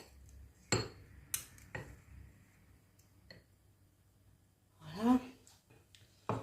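Spoon and cutlery clink against dishes at a relaxed summer table set for tiramisu and ice cream, a few scattered sharp taps with quiet gaps, a voice briefly speaking near the end.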